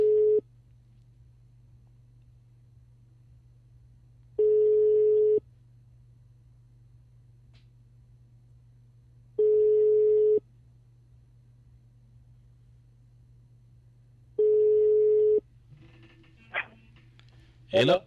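Telephone ringback tone on a radio phone-in call, four evenly spaced long beeps separated by pauses of a few seconds over a low hum, followed by brief clicks and rustling at the end.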